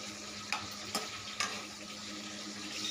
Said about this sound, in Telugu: అవి టమాటాలు అన్నీ వేసుకోవాలి. బాగా వేగనివ్వాలి.